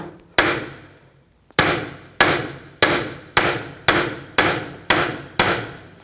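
Sharp metallic hammer strikes on a punch against a BMW X5 front axle seated in its hub: one blow, a pause, then seven evenly spaced ringing taps, loud and close.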